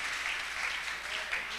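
A church congregation applauds in a steady, dense wash of clapping that fills the room at an even level throughout.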